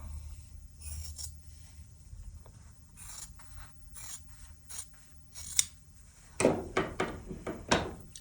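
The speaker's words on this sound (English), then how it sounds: "now I will cut directly on the diagonal line" Crisp cutting strokes slice through sewn quilt fabric along a diagonal line, several quick snips clustered near the end after quiet handling and rustling.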